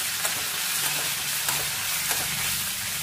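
Tomato, garlic and chillies fry in a pan with a steady close sizzle and a few soft stirring scrapes, no voices over it.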